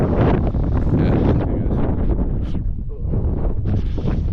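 Strong wind gusts on top of Table Mountain roar and buffet the microphone continuously, rising and falling in intensity, with no clear talking.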